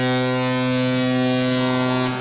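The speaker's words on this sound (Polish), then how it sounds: "Syrena oznajmiła, że możemy grać." A loud, steady siren sounds at the start of a charity football match between former and current Ekstraklasa players, holding a constant droning pitch with strong harmonics for the full stretch and fading slightly at the end.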